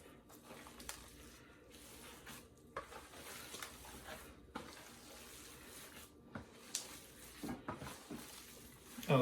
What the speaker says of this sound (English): Give this another mix.